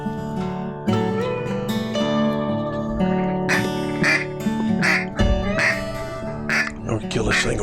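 During a duck hunt in Arkansas, repeated nasal quacks come in bursts over a humming background, with voices underneath.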